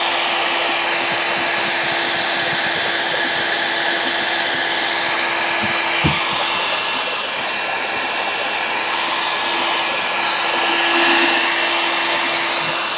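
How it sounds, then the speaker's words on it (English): A heat gun blows steadily, a loud, even airy roar with a faint high whine that holds almost unchanged, broken only by a single brief click near the middle. "gonna give it a little heat gun"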